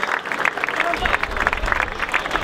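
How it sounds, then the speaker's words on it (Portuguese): Applause from a crowd at the prize ceremony of a rally sprint event, steady dense clapping that stays loud across the moment, with voices mixed in underneath. "Vamos lá então receber Gonçalo Boaventura, um aplauso para ele."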